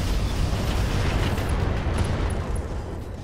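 Mech weapons firing in the BattleTech mod Roguetech, heard as a continuous, loud, rumbling roar of explosive fire with faint high tones above it.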